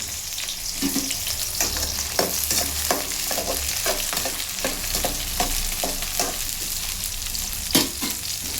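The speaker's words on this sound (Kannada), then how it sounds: "ಟೊಮೊಟೊ ಹಾಕಿದ್ದೀನಿ, ಸ್ವಲ್ಪ ಫ್ರೈ ಆಗಲಿ" Tomatoes and onions fry in a pan for a village-style home-cooked dish, with a steady, close sizzle broken by regular scraping and clicking stirs and no talking.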